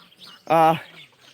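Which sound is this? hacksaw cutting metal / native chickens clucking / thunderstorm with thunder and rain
native chickens clucking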